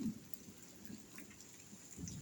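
Steady rain falling at night in a rural setting, a soft continuous patter with low rumbling underneath, faint and even throughout without voices.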